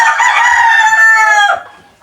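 A hen's drawn-out, warbling call rings out close by for over a second, then trails off into quiet clucks.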